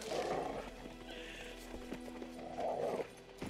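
A horse in The Witcher 3: Wild Hunt moves with soft, rhythmic hoofbeats and gives a short whinny, all faint and mixed with low game ambience.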